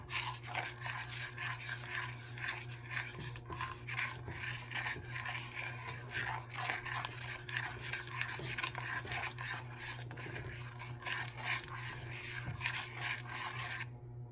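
A spoon scraping and stirring around a pot of frozen zucchini jam mixed with Jello, a steady rasping scrape repeating without a break, close and fairly loud, with no talking.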